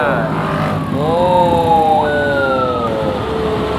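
An ambulance siren wailing in Malaysian road traffic, a loud rising and falling electronic tone close by over steady engine and road noise.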